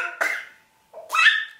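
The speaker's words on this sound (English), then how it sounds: "And she fakes it with her little coughing." A little girl gives two short, playful fake coughs, close by and fairly loud, separated by a brief silence.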